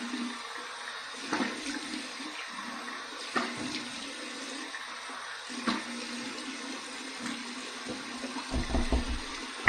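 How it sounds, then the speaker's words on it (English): Cold water pours from a tap for a final post-shave rinse with a Dollar Tree razor, a steady close splashing stream broken by brief louder gushes near the end, with no voices. "Okay, here's my cold water rinse."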